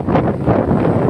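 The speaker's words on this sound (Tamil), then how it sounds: "சரியான காற்று." Strong outdoor wind buffets the microphone during a seaside fishing outing, a loud, continuous low rumbling roar lasting just over a second, with no voices.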